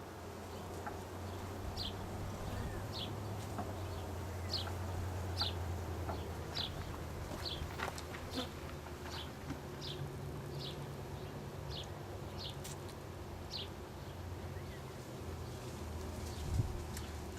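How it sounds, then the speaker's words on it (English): Honeybees buzz at a GrassHopper beehive during a hive inspection, a soft, steady hum with repeated brief chirps above it, quiet and continuous with no talking. "The bees are really calm."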